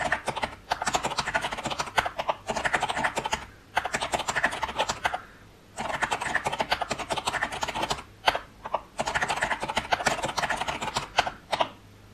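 Steady bursts of close, crisp typing on an Aula A80 mechanical keyboard fitted with gold powder switches, soft muted key clacks running in runs separated by brief pauses, with no talking.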